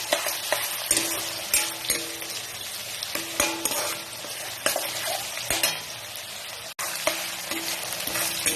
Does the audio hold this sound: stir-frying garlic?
yes